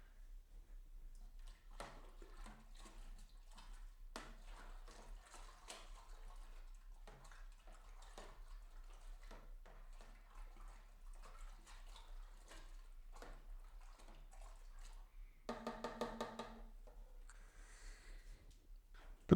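Naturally fermenting grape juice, on its way to wine, is stirred in its container, making soft continuous sloshing and light clicks. The sound stays quiet and steady, with a brief louder swirl near the end.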